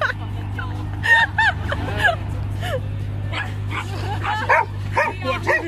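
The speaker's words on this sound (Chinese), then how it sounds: "太热闹了，三只狗子在一块儿，你别咬。" Several dogs yip and bark in short playful bursts, close by, while they play together on a roadside stop on a road trip. A steady low engine-like hum runs underneath, and people talk intermittently.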